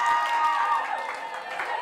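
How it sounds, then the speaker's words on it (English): A late-night talk show studio audience bursts into applause and cheering after the applause sign is switched on by mistake, a steady wash of clapping and crowd noise with a voice talking over it. "I accidentally hit the applause sign."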